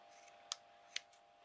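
Scissors cut craft material for a miniature witch's hat diorama, giving two crisp, close snips in quick succession over a quiet background with no talking.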